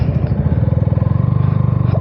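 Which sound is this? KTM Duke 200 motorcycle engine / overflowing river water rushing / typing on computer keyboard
KTM Duke 200 motorcycle engine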